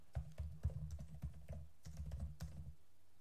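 Quick bursts of keystrokes on a computer keyboard while Java code is typed, close and fairly soft, with a brief pause midway before the clicking resumes and then trails off.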